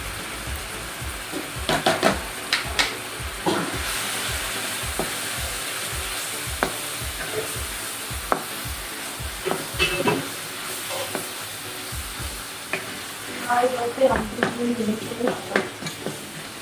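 Spices sizzling and frying in a pan for chicken kabab gravy, with steady crackle and repeated scrapes of stirring throughout, louder bursts near the end.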